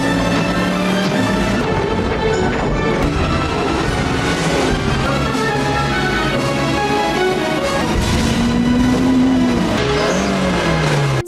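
Film car chase with tires skidding and engines revving, a dense, loud and continuous roar of vehicle noise with squealing swells and no voices.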